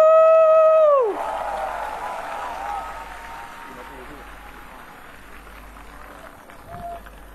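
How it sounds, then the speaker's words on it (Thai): A crowd at an outdoor Red Shirt political rally in Chiang Mai claps and cheers in a diffuse, broad wash, after a brief sustained tonal call at the start cuts off abruptly. "เสียงปรบมือดังให้กับอีทบ้านตากครับ ดังๆอีกสักครั้ง"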